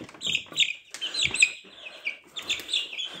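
Broiler chicks on a farm peep and cluck in overlapping bursts, close by and fairly clear, with high chirps in quick, uneven clusters and no talking.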